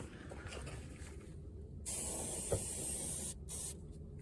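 Permatex rust converter sprayed from an aerosol can onto rusty spots of a SAAB 900 Turbo SPG body, giving short hissing bursts with brief pauses between them, close and steady.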